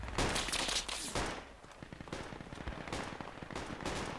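Gunfire in the military shooter Project Reality: a dense crackle of many overlapping shots at a moderate distance, with bursts and scattered single reports throughout.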